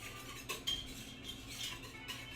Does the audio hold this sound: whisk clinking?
yes